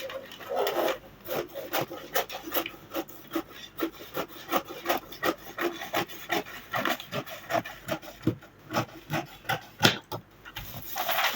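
Dress fabric being cut for the lower skirt section, heard as a rhythmic series of close, crisp rasping strokes that grows more regular and pronounced toward the end, with no talking.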